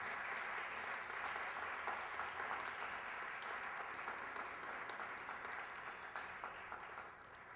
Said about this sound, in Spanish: Les brindamos un fuerte aplauso a las damas que han sido reconocidas en esta noche.